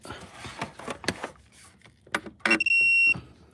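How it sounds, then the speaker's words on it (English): A few mechanical clicks and taps, then a single sustained high electronic beep lasting about half a second, fairly loud and close. "Listen for the beep."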